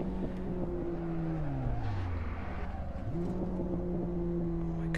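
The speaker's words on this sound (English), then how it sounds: "God, I can't get over this car's shifting noise." Race car engine in Assetto Corsa driven in a six-gear car, a sustained loud revving drone whose pitch climbs, drops sharply at a gear shift, then rises again.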